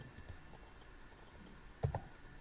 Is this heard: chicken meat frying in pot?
no